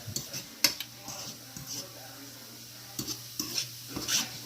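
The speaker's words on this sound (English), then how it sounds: "it's sauteing in here and cooking in here nicely" Vegan meat sauce sautés in a pan, with a soft sizzle under intermittent scrapes and clicks of a utensil against the pan, fairly quiet and close.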